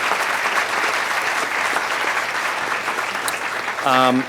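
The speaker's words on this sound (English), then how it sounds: "I really want to give them a round of applause for coming in." A conference audience applauds a sponsor with dense, steady clapping that holds at an even level throughout and ends as a voice begins speaking.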